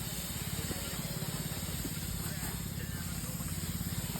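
Spray hisses steadily and fairly loudly for the whole stretch, with a constant low engine-like drone running underneath.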